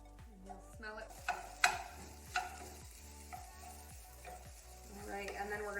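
Hidden veggie rice cooking in a pan, a quiet steady sizzle with repeated rhythmic ticks and several louder clinks of a utensil against the pan.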